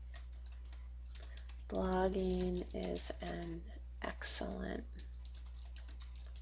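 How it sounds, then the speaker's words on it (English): Someone types on a computer keyboard while writing a WordPress blog post. A few bursts of quick, clicky keystrokes sound close up, mixed in with a person speaking. "so I'm just going to keep on typing."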